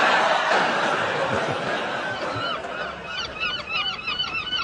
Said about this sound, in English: Ah, seagulls.